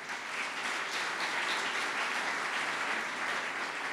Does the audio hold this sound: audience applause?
yes